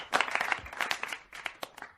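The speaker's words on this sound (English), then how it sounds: "A little late on the applause, though, don't you think, Albert?" Scattered, sparse clapping from a small group during a talk-show interview, individual claps distinct and irregular, quiet and tapering off over two seconds.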